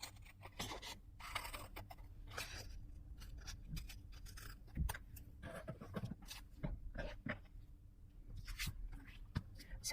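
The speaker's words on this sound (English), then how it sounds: "let's just trim this side." Scissors snip away paper overhang on a handmade ephemera holder, a close series of irregular crisp cuts and papery rustles with short pauses between strokes, quiet and without speech.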